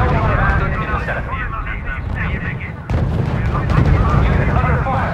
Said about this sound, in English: Unit under fire